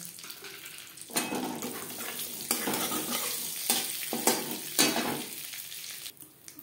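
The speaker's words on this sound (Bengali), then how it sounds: "মাছ ভেজে নেওয়া তেলে ফোড়নে দিয়ে দেবো 5 ফোড়ন।" Five-spice seeds (panch phoron) crackling in oil left over from frying fish, bursts of sizzling and popping rise and fall in uneven surges, close and fairly loud, with stirring scrapes between them.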